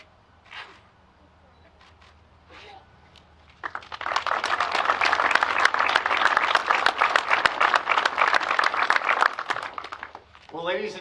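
Ceremony audience applauding honorees at a court of honor unveiling: after brief quiet speech, a loud, dense burst of many hands clapping swells and sustains for several seconds before a voice returns.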